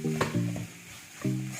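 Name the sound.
stirring prawn biryani masala in a pan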